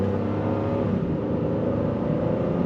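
Honda Passport RTL V6 engine revving while driving, a dense continuous low engine roar with road and wind noise, steady and loud from inside the cabin, no talk.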